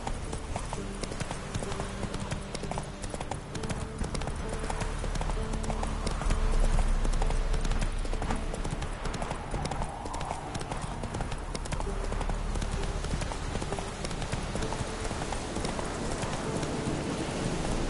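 Horse galloping in the video game The Witcher 3, a continuous rapid clip-clop of hooves, loud and close, over steady background noise, with brief speech partway through.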